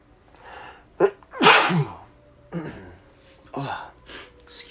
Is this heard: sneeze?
yes